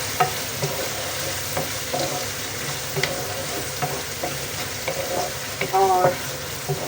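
Ginger garlic paste being stirred in a sizzling pan for aloo keema, with a steady close-up frying hiss and intermittent scraping of the spoon, no talking.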